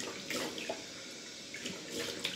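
Cold water runs from a tap during a wet shave, a close splashing stream with uneven bursts and spatters as hands or a razor pass through it, no voices.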